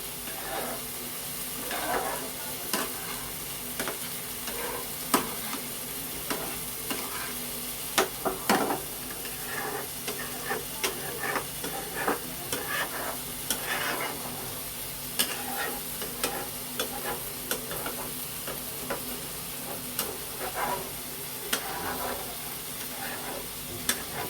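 A hot pan of food with yogurt stirred in for a Bengali chicken lunch, vigorously and continuously mixed: constant sizzle with repeated sharp spoon scrapes and knocks against the pan, close and steady throughout.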